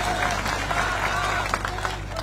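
A crowd applauds at an outdoor public meeting with the Chief Minister announcing local projects, a steady dense wash of clapping throughout with voices blended in.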